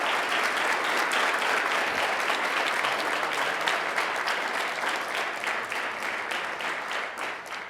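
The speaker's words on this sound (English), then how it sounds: "So a big round of applause for Andy Sepulveda going to TOU." Dense, steady applause from the crowd at a high school college signing ceremony, a continuous wash of many hands clapping that gradually fades toward the end.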